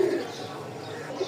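A Rajshahi giribaz pigeon coos in short, low, throaty notes at the start and again near the end, close by against a faint room background.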